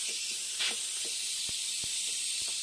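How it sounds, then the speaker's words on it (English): A Farberware 7-in-1 pressure cooker releases a loud, steady hiss of steam continuously, with a few faint clicks and taps underneath. "Let the steam go out."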